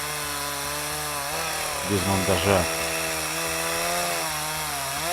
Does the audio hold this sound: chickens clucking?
no